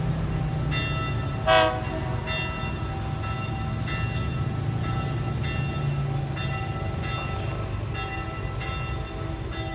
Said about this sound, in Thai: ตอนนี้รถไฟธรรมดาขบวนที่ 262 นะครับกำลังจะ เคลื่อนตัวออกจากสถานีบ้านโป่งนะครับ